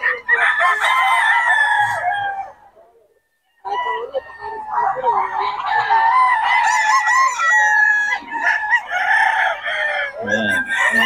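Banded roosters at a market in Bocaue crow loudly and repeatedly up close, with clucking between calls and a brief lull in the middle, while someone talks over the birds.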